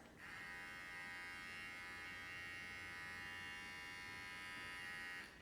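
A Wahl Bravura hair clipper runs steadily for several seconds, a quiet, even electric buzz with a rattly edge that starts and stops cleanly and plays alone with no talk.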